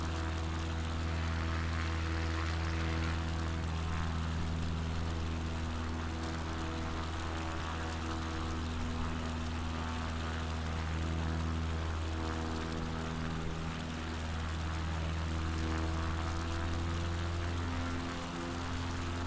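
Steady propeller airplane engine drone from Flight Simulator 2020, droning loud and continuous at high power during a climb, with strong low harmonics and a rough, even hum throughout, no voices.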